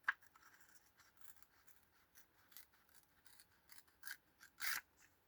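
Fragile paper torn by hand, a quiet series of soft rasping rips spread unevenly, ending in a louder, longer tear near the finish.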